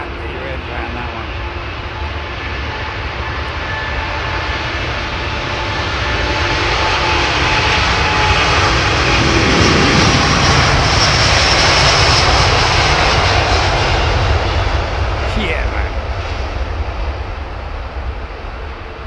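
A jet airliner lands at London Heathrow, its engines a loud, broad roar that swells and peaks near the middle before easing slightly as the aircraft passes close by.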